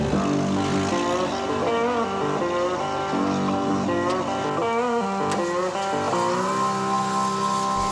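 An off-road vehicle on stock suspension, fitted with Genright bumpers and sliders, labours along a Johnson Valley trail. Its engine drones steadily and loudly up close, the pitch rising and falling as it revs and strains, with no voices.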